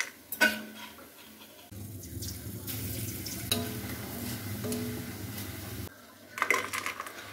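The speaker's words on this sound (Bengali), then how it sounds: "নিচ দিয়ে এভাবে করে বেসন বের হচ্ছে, এটাকে ভালোভাবে করে ভেজে নিতে হবে" Gram flour batter dropped through a slotted ladle into hot oil, frying into yellow boondi in a home kitchen; a steady sizzling bubble fills the middle of the clip, with a few utensil clinks before and after.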